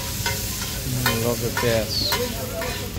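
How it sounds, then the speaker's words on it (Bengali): Dried red chillies fry in a pan at a riverside ferry-ghat eatery serving mustard hilsa, giving a steady loud sizzle with stirring clatter. Voices talk throughout. "শুকনো মরিচ ভাজতে আছে সেই লেভেলে।"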